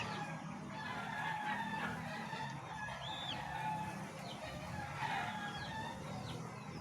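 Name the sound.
chicks in a newly built chicken coop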